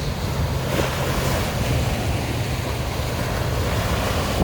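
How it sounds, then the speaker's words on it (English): Waves lap and wash steadily against the downtown Chicago waterfront, a continuous loud surf with wind buffeting the microphone and no voices. "I'll let you hear the water here, the waves."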